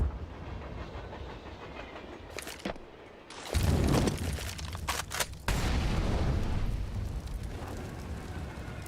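Heavy booms from grenades going off during a CS:GO match on the Train map, including a loud blast midway followed by sustained rumbling and clatter, with no talk.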